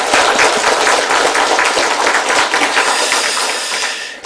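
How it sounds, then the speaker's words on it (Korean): A church congregation applauds its choir at a Sunday service, a loud, dense burst of clapping from many hands that carries on steadily and then fades toward the end. "올 한 해 또 우리 찬양대 잘 되도록 우리 박수로 격려 한번 합시다"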